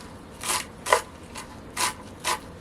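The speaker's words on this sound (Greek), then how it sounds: "Που σημαίνει ότι δουλεύουμε το μίξερ, αλλά όχι συνέχεια" A kitchen mixer pulsed in short bursts to roughly puree chopped peppers, celery and other vegetables for a quick eggplant pickle, five brief whirring grinds with pauses between, close and moderately loud.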